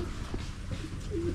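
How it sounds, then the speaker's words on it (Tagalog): A pigeon coos softly nearby, a brief low, throaty call over a steady outdoor background. "Yung kalapati ni Rambo."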